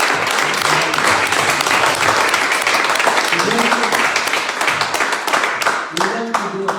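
A church congregation at a Sunday service applauds loudly and continuously, dense clapping filling the room with a few voices and cheers mixed in.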